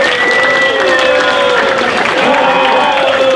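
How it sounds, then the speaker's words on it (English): Audience booing a panel guest at an NRA convention Q&A, a loud, continuous wash of crowd voices holding steady throughout. "That's what I like to hear, booing."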